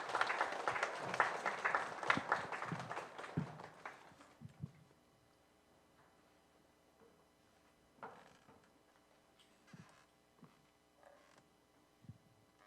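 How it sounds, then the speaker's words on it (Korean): A church congregation at a young adults' Sunday service applauds warmly for about four seconds to welcome the preacher, then the clapping dies away into a quiet room with a few soft knocks and creaks. "우리 큰 박수로 환영할까요?"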